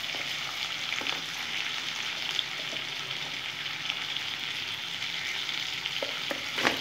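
Potatoes frying in a pan on low flame with onion, chilli, salt and turmeric, a dense steady sizzle with occasional pops and stirring scrapes, close and without talk.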